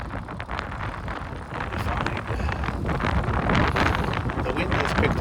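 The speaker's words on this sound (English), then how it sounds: "The wind has picked up quite a bit throughout the day." Strong outdoor wind in Aichi, Japan buffets the microphone with a heavy, continuous rumbling roar that is close and loud and builds slightly over the few seconds.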